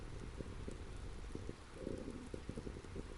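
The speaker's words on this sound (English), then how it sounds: "I'm looking out a large window here and can see the abandoned life covered in rain" Steady rain outside a large window gives a low, constant wash with scattered drips and patters, faint and continuous, with no one speaking.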